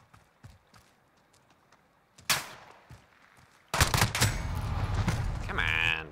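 Gunfire at night in the video game Call of Duty Modern Warfare during a gun game match: faint footsteps and small sounds, a sharp shot, then a loud sustained burst of fire near the end.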